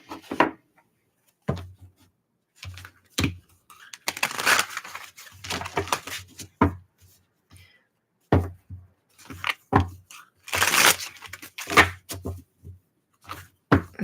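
Tarot cards being shuffled in a reading, with irregular bursts of papery riffling and soft tapping separated by short pauses.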